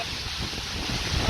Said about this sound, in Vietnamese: Gió rất là mạnh luôn và rất là to ấy anh em.